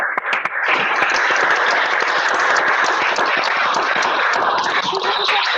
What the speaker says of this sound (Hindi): तो ये ताली क्यों बजाई जा रही है अभिषेक सर के लिए?